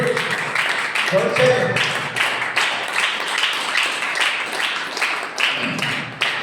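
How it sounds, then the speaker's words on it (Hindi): A congregation claps hands together at a Sunday church service, steady rhythmic applause filling the room with a voice speaking briefly over it. "ताली बजा के परमेश्वर को धन्यवाद करें।"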